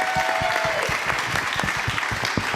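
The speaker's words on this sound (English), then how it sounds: "a roaring round of applause for all our panelists" An audience at a real estate masterclass session claps for the panelists. The applause is dense and sustained, with many hands close and loud from start to finish.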